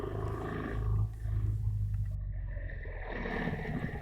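A big GS motorcycle's engine roars loud and close as it is ridden through a hairpin on twisty Eifel roads, a continuous low drone that rises and falls in pitch with wind rush and no talking.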